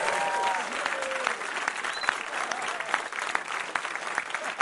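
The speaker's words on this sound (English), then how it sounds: "Give him a round of applause." Studio audience applauding on a TV quiz show, a full steady burst of clapping with a few cheers and murmurs mixed in, holding strong for the whole stretch.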